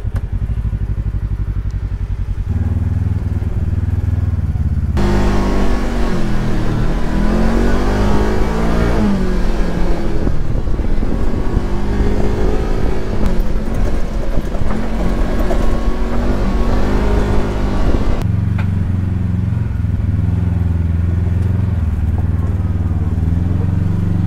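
An off-road vehicle's engine drones loudly and steadily on the Chain Reaction Trail at a Trail Hero event, close to the listener, with rising and falling revs as it climbs over terrain.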